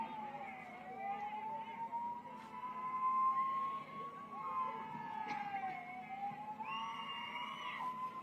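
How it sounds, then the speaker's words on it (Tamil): An ambulance siren wails in a steady rising-and-falling tone as it pushes through a crowded street rally, loud and continuous over the murmur of the crowd. "ஆம்புலன்ஸ் வருது, வழிவிடுங்கப்பா."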